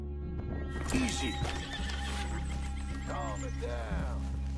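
Horse whinnying in Red Dead Redemption 2 on PS5, a couple of loud, close neighs with hoof clip-clops underneath, over a steady low game ambience.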